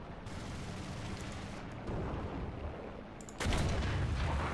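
A heavy tank cannon fires in the War Thunder video game, a sudden loud boom late in the stretch over a constant rumbling engine and battle noise.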